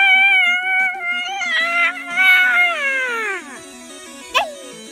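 A loud, drawn-out cat meow rising then sliding down in pitch, followed by a short sharp squeak.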